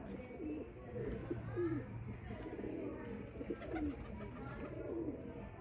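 Sialkoti pigeons coo in soft, repeated rolling calls, close by and continuous, with faint chirps and background murmur around them.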